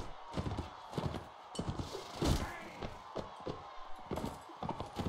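Horse hooves thud in a tournament in the game Mount & Blade Warband, a loose, uneven run of clip-clops close by with scattered impacts, fairly soft and without talk.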